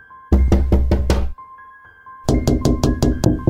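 Knocking on a window at night, a quick run of four loud raps, a short pause with a faint hum, then a second rapid series of about seven knocks, sharp and close.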